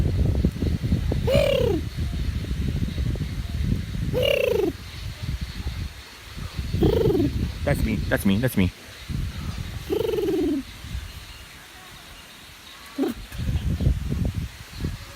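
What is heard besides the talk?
birds cooing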